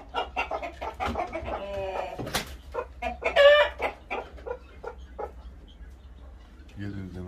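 Wild hens clucking repeatedly close by in a coop, with a loud squawk partway through, amid a busy flock and a person talking over them.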